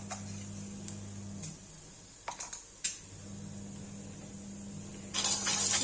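Cumin seeds crackle in hot oil in a pan for a spicy ridge gourd and potato curry, a steady close sizzle with a few sharp pops and ticks.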